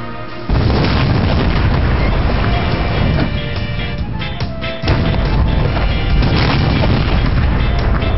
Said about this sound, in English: If the sound from your explosion actually reaches France, we should be able to detect it here.